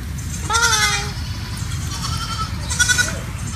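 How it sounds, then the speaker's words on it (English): Nigerian dwarf and African pygmy goats bleat in two clear wavering calls, one near the start and a shorter one toward the end, over steady low farmyard rumble. "We have the Nigerian dwarf, which is a miniature milk goat. And we also have the African pygmy goat"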